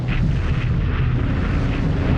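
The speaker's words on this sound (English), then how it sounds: "Bombing the port." Bombs exploding on a port during a war video game, a dense, continuous rumbling roar of blasts with low booming bursts layered throughout and no clear gaps.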